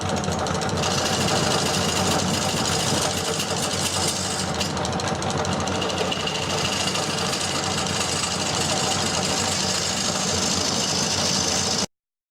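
Wood lathe spinning an off-center flying saucer bowl at higher speed, a steady dense whirring hum with rhythmic vibration that runs continuously, then cuts out abruptly at the end.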